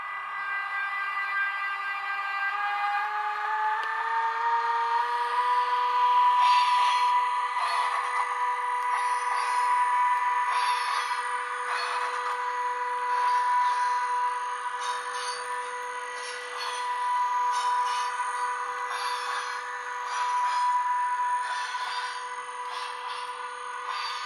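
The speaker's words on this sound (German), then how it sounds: "ich zeige euch jetzt mal das Weichenquietschen" A model Roco BR185 locomotive with an ESU LokSound 4 decoder plays a steady electric drive hum with a high, sustained squeal of wheels over points. Soft rubbing bursts come and go, and no one talks.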